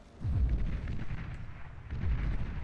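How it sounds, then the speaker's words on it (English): Rattlesnake artillery units in the strategy game Beyond All Reason fire away in a large 8v8 deathmatch, a steady rumbling barrage of deep booms with a couple of heavier thumps, continuous and fairly loud. "Rattlesnake continuing to fire away is super annoying."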